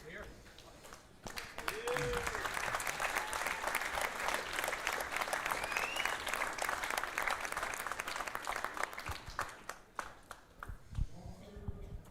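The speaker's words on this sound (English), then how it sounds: "A big round of applause again" Crowd at a boxing event applauding, a dense sustained roar of clapping across a large hall that builds quickly and holds steady, with brief voices at the start and end.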